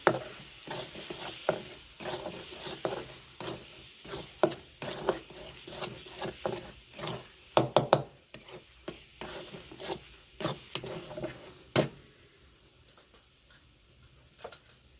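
A vegetable mixture thickened with bajra flour fries in a pan, with a soft sizzle under frequent rhythmic scraping and tapping of a spatula that stops near the end, leaving only quiet frying.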